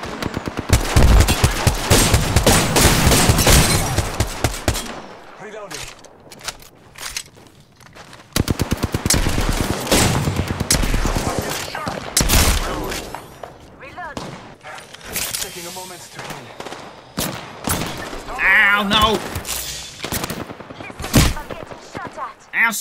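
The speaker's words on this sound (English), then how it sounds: "Ow, stop shooting me, you doof!" Automatic gunfire in the Apex Legends video game, loud rapid bursts in two main stretches with scattered single shots, mixed with game effects and someone talking and yelping over it.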